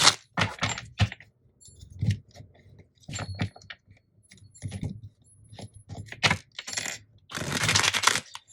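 Tarot cards shuffled by hand during a reading, giving a run of crisp papery riffles and slaps in short irregular bursts, fairly close and with no talk.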